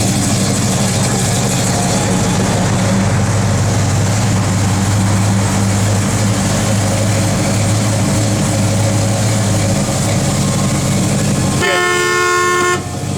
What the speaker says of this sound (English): That's a snappy motor right there. That thing runs.